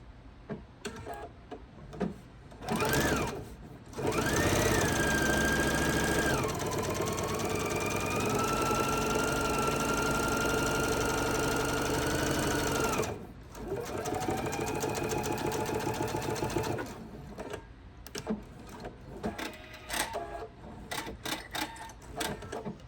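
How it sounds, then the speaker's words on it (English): Sewing machine running in two long continuous bursts as it stitches a cork key fob along a long edge, steady mechanical whir with short stops and starts, close and alone with no talking. "we're going to sew the other long side 1/8 of an inch all the way down"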